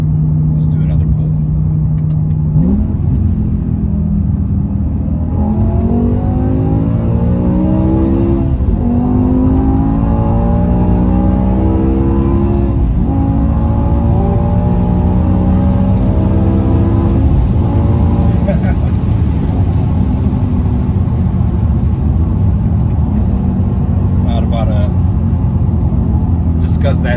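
A BMW M6 V10 coupe on a full-throttle pull, the engine climbing loudly through rising revs with a shift and another climb, strong close rumble and whine under the wind, with a voice talking over parts of it.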